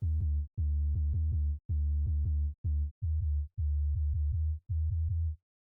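A deep, low synth bass plays a run of sustained notes with short gaps between them, dull and rounded with no bright edge.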